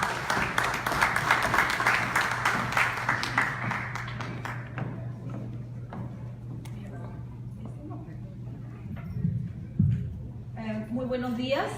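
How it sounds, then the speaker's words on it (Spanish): Conference audience at a Peruvian universities association convention applauding to welcome a speaker, with loud clapping at first that thins to scattered claps, followed by handling noise and a voice beginning to speak near the end. "Recibimos por favor con aplausos"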